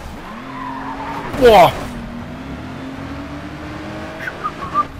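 In the racing video game GRID 2, a car skids with screeching tires and crashes in a sharp loud burst amid a droning engine, followed by further engine and tire sounds while a man exclaims.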